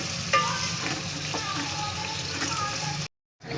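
Onions frying in hot ghee in a handi, a steady soft sizzle with occasional stirring clinks, fairly quiet, cutting to brief silence near the end.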